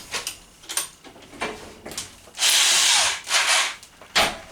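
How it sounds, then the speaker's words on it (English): A power drill drilling out a rivet on a deck, sounding in loud bursts: several short revving pulls, then a longer sustained grind and a final brief burst, near and alone. "You always end up having to drill out a rivet every time."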